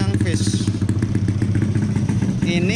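A small two-stroke motorcycle engine warms up, idling and revving roughly nearby, steady and buzzing, with voices talking over it.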